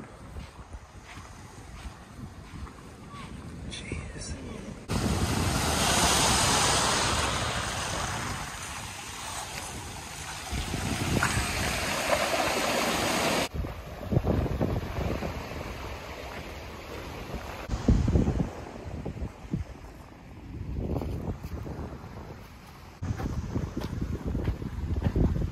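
Wind and surf on a Bay of Fundy beach with extreme tides, a steady broadband roar that swells and gusts loudly against the microphone, with rushing water and no talking.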